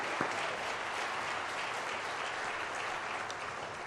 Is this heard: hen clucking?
no